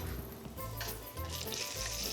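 Eggplant slices fry in a pan with a steady, soft sizzle, punctuated by faint clinks of a utensil against the cookware.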